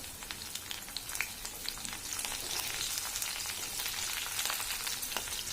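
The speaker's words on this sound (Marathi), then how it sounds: "मिरची पण छान तळलेली तेलामध्ये आणि लसूण पण छान आपला थोडासा लाल झालेला आहे" Green chillies and garlic frying in hot oil in a pan, a soft, continuous crackling sizzle with faint spitting pops, heard close but quiet and alone.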